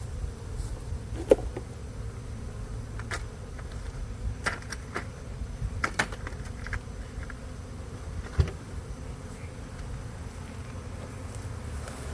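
A soft, steady buzzing of honeybees on a shed floor hums throughout, with occasional brief clicks and taps over the low drone.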